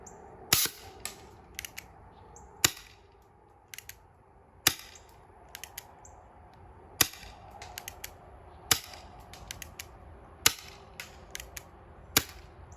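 An Elite Force Wildcard CO2 airsoft revolver shoots BBs: about eight sharp, close pops spaced roughly two seconds apart, with softer clicks and rattles in between.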